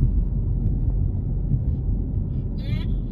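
Deep, loud engine rumble of a Dodge Charger R/T muscle car holding steady and close, with a brief higher-pitched sound near the end.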